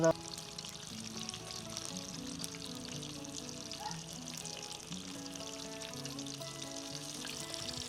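Chilli bajji (mirchi) in Davanagere-Kottur style frying in hot oil, a steady soft bubbling sizzle that runs throughout under quiet background music and speech.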